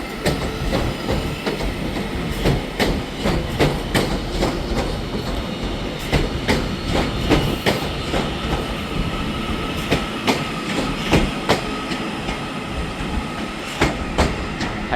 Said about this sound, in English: And then departing out here is 331104.